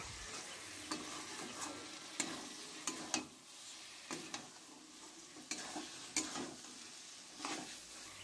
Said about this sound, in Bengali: এই সময় খাসির চর্বিগুলো দিয়ে দিলাম। চর্বিটা দিয়ে কিছুক্ষণ নেড়ে চেড়ে নেব।